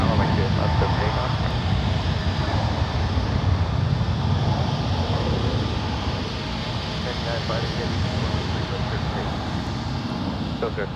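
Boeing 777-300ER jet airliner on runway 28 left at San Francisco International Airport, a loud, continuous broadband engine roar with wind rumble, steady throughout and easing slightly midway, with no talking.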